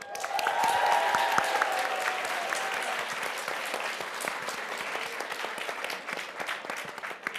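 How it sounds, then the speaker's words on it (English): A conference room audience gives a long round of applause, a full, dense crackle of many hands that swells at first and then eases off gradually, with a little crowd noise mixed in. "let's just do one last round of applause for all of us in the room"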